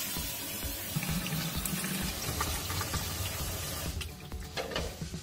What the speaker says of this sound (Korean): 물이 너무 지금 새서